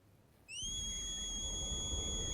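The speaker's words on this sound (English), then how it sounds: "I wish I could whistle like that." A sharp, steady whistle with a pure pitch and clear overtones begins abruptly and holds level and loud, over a low rumbling background, with no talking.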